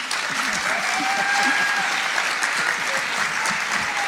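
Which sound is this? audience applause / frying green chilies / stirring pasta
audience applause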